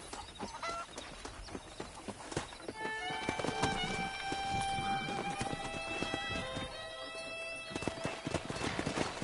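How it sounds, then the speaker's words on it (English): Hooves clip-clop rapidly over a musical score in the video game Red Dead Redemption, with a horse whinnying partway through; busy, rhythmic galloping sounds throughout. "let's see if we can't wrangle some horses"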